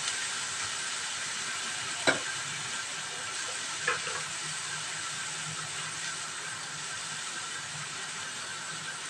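Potatoes frying in a little oil in a frying pan, a steady low hiss and sizzle throughout, with a couple of sharp clinks near the start.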